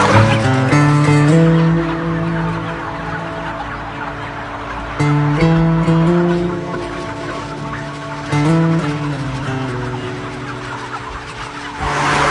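Crowded chickens in an intensive indoor poultry farm, a loud, dense chorus of clucking and chirping from many birds at once, with a low mechanical drone underneath and periodic swells.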